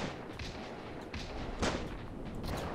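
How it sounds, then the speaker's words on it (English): An anti-tank rifle shot in the battle simulator game Ravenfield, during a D-Day beach defense: one loud, sharp blast rises from a steady din of distant battlefield gunfire and explosions. "he hit me with an anti-tank rifle"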